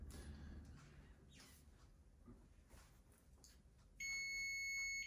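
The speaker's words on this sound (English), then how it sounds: "Just wait for the timer to count down here." Kitchen timer during bread baking sounds off at the end of its countdown with a steady, loud electronic beeping tone, rising suddenly over faint room noise and holding for about a second before the clip ends.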